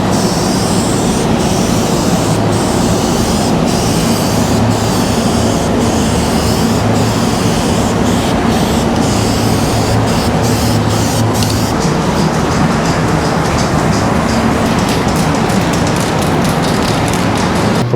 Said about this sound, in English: Now we're gonna do that dust coat to make sure it's nice and even.